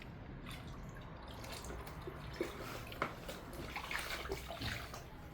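Plain water is poured over durian fruit skins, giving a quiet, continuous splashing with scattered drips and small spatters that grow a little busier toward the end, with no voices.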